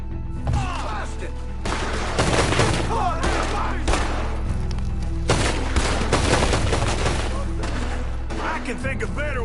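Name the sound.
gunfire in a PS4 video game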